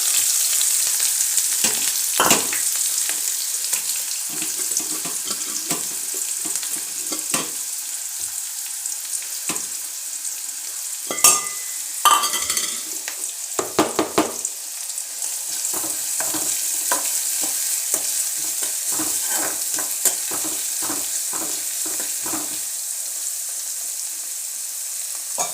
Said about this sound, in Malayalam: നമ്മളതിലേക്ക് കടുക് പൊട്ടി, അതിലേക്ക് ഇഞ്ചി, പച്ചമുളക്, ചെറിയുള്ളി ഇട്ട് കൊടുക്കാം